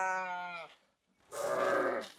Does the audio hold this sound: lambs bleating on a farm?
yes